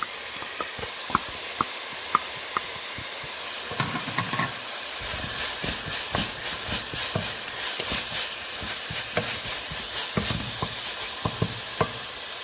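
Chopped ginger sizzles and hisses steadily in a hot pan while cooking minced beef keema, with a spatula scraping and tapping in a busy irregular rhythm, close and fairly loud, no voices.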